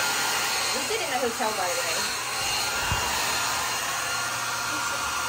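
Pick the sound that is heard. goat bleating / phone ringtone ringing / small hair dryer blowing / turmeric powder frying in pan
small hair dryer blowing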